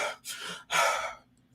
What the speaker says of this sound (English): we're just going to take a deep breath